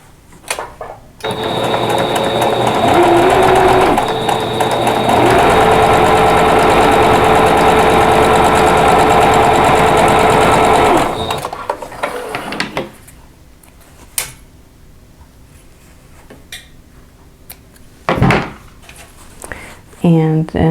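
A sewing machine stitches quilt block pieces for a tulip block, a loud steady motor whir with shifting speed for about ten seconds, then stopping into quieter handling noises and faint clicks.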